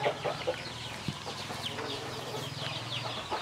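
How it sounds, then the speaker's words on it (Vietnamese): Chickens cluck in a farmyard at a grandmother's home, with a fighting rooster among the flock. The clucks come as steady, moderately close calls through the yard, with no talk heard. "Ui, nhà bà có nhiều gà thế."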